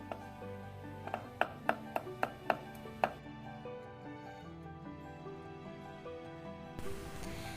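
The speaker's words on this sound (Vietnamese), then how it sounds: "Tất cả đều đập ra rồi băm thật nhuyễn." A knife mincing crushed garlic, shallots and ginger on a board: a quick run of about seven sharp, evenly spaced chops near the start, then quiet room noise and music.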